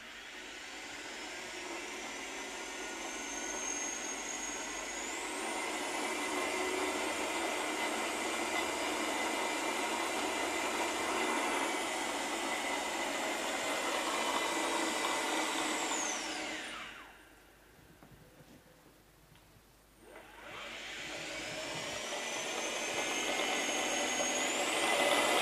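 A Tesla small drive unit electric motor running under throttle, with a steady whine and a high tone rising in pitch, then a brief drop to near quiet before the whine climbs again, with no talk.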